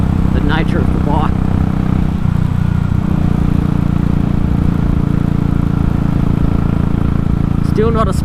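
A Royal Enfield motorcycle fitted with a Race Dynamics Powertronic tuner on a road test gives a loud, steady engine drone and wind roar throughout, with a rider talking over it at the start and the end.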